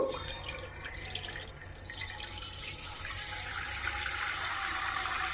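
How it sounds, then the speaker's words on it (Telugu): Half a liter of buttermilk poured from a container into a pan on a stove, heard as a steady liquid splashing and trickling that runs close and continuous throughout, without talk. "వేరే ప్యాన్ పెట్టుకొని అందులో 1/2 లీటర్ పాలు అయితే పోస్తున్నానండి."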